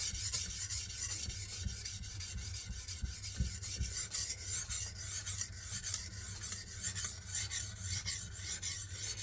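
A Zwilling Kramer Damascus chef's knife stroked across PDTools silver CBN sharpening stones, a close, steady rhythmic rasping of repeated back-and-forth passes with no talking.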